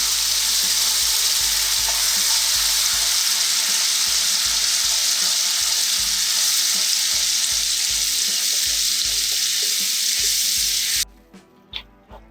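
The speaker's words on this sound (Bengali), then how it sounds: "এবার আমি এতে দিয়ে দিচ্ছি সেদ্ধ করা পেঁয়াজ বাটা।" Boiled onion paste sizzles steadily in hot oil with spices such as Kashmiri chilli powder in a pan for a Bengali malai chicken gravy, a loud continuous fry with faint stirring scrapes, cutting off abruptly near the end.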